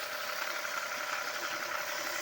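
A rebuilt pressure washer pump running, a steady dense mechanical whir with a faint vibrating rattle, close and constant across the whole clip with no voices.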